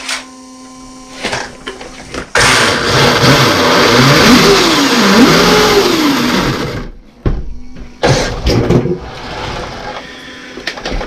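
A Traxxas UDR RC truck's electric motor whines up and down in loud, rising and falling revs for several seconds, bracketed by short bursts of whirring and clicking before and after.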